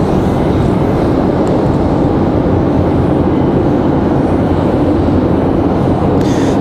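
America West airliner in retro livery arriving at Raleigh-Durham International, a loud, steady, broad jet rumble and roar that holds for several seconds, with no talking.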